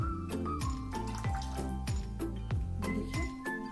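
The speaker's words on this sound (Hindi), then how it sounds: "तो हम यहाँ से इन रसगुल्लों को निचोड़ेंगे और निचोड़ करके हम इस चाशनी में डालेंगे।" Syrup squeezed out of spongy rasgullas made from full cream milk, dripping and trickling back into the sugar syrup, with close wet splashes and irregular drips.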